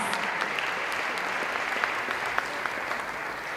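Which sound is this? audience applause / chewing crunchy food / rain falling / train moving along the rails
audience applause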